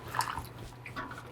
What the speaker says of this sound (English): A good little splash of that.